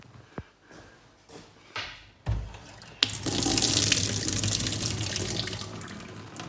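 A household tap turns on after a few clicks and knocks once the house water supply is restored, and water then gushes loudly and steadily into a sink.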